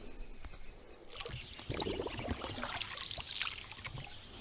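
Water sloshes and trickles close by as a small fishing boat moves along a pond in the morning, with gentle splashing building after a quiet start.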